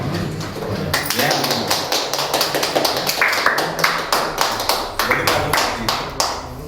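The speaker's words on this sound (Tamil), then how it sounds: "நம்ம ஆசானாயாக்கு ஒரு பலத்தை கைத்தட்டு கண்டிப்பாக கொடுங்க" An audience at a varma martial arts training class claps for the teacher, with dense, rapid, uneven hand claps near and loud throughout as a voice talks over them.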